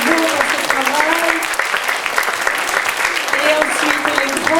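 Strong applause for children at a school or community show, a crowd clapping vigorously and continuously with voices talking over it.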